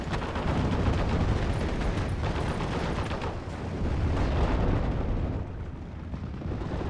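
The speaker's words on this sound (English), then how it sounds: "Mustang's still strafing the hell out of the infantry on the ground" A P-51 Mustang strafes infantry on a Normandy 1944 battlefield in the Steel Division: Normandy 44 wargame, producing a dense, continuous roar of rapid gunfire and explosions that stays loud throughout before easing slightly at the end.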